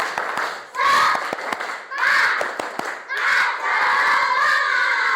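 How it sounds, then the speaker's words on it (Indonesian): A class of children does the tepuk semangat clapping chant, rhythmic group claps mixed with loud shouted voices in bursts, a teacher leading the pattern. "Satu kali tepuk semangat."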